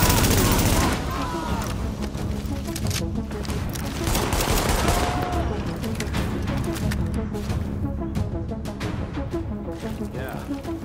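Heavy gunfire in the Tom Clancy's The Division video game during a precinct siege, rapid bursts of shots rattling continuously with a loud opening volley, while voices talk underneath.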